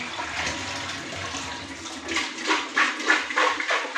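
Tap water runs steadily into a sink while dishes are washed at home, a close hissing stream with light splashes and clatter toward the end, no voices.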